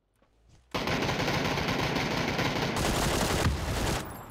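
Gunfire in an online shooter video game: after a brief quiet moment, sustained rapid automatic bursts erupt loudly and continue almost without pause, with dense overlapping shots close by.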